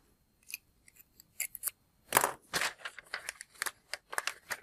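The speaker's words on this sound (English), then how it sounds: "I'll go ahead and use my X-Acto knife here." An X-Acto knife cutting tracing paper for a scale model template of the U.S.S. Enterprise NCC-1701-E, a series of short, crisp snips and scrapes in an irregular rhythm, close and clear with no talking.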